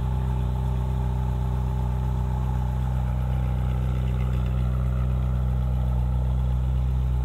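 A Ferrari 458 Spider idles in the Florida sun with a loud, steady, deep hum from close range, holding constant throughout without revving.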